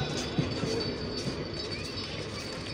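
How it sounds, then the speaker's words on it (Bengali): The 765 Up Nilsagar Express intercity train pulls into Saidpur station in Bangladesh, giving a steady, fairly close rumble of wheels and carriages with a faint squeal and no pauses. "আন্তনগর 765 আপ নীলসাগর এক্সপ্রেস ট্রেনটি সৈয়দপুর ইন করলো"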